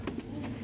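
Pigeons cooing in a Teddy pigeon breeding setup, a soft low throaty coo repeated twice in under a second, close by with faint background noise.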